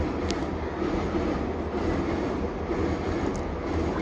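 A train rumbles steadily past, used as a sound effect in a night-time story set beside a house near a railway line; a continuous, fairly loud, even roar with no voices.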